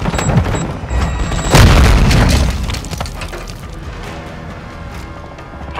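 A cruise missile detonates in a Call of Duty: Modern Warfare II Hardpoint multiplayer match, a loud, deep boom with a crashing burst that rumbles and slowly fades over several seconds.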